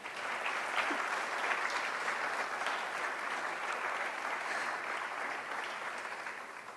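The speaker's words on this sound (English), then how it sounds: "Please give yourselves a round of applause." An audience claps steadily for the presenters at an albinism awareness day event, a continuous, moderately distant round of applause that holds evenly and tapers slightly at the end.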